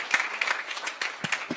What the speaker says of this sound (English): clap them up